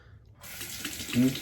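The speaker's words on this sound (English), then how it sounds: "you can wash your blades off with a little bit of" Warm tap water starts running into a sink to rinse razor blades, a sudden steady splashing stream that begins after a moment of quiet and grows a little louder.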